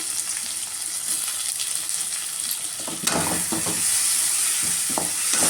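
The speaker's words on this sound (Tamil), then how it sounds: "நல்லா கிளறிக்கோங்க" Fish curry masala with chopped tomato frying and being stirred in a pan for dried-fish kuzhambu, a steady hiss of sizzling oil broken midway by a louder burst and clustered spoon scrapes, close up with no talking.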